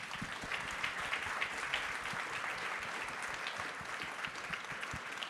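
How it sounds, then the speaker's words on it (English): An audience at a panel discussion gives the panelists a round of applause, a dense, steady clapping that continues evenly throughout at a moderate distance. "A round of applause for my panelists."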